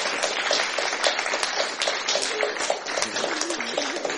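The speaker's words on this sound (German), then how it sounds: "ich bitte Sie um einen Applaus für ihn" Lively audience applause for a guest speaker at a lecture event, dense clapping that stays loud and steady, with a few cheers or voices rising briefly near the end.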